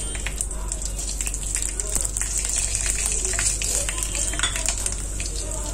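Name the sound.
whole spices sizzling in half cup of oil in kadhai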